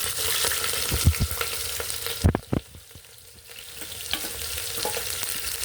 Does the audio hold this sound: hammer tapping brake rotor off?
no